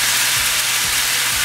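Cod fillets sizzle on a bed of onions in a hot pan, a steady, loud, close frying hiss with faint soft bumps underneath.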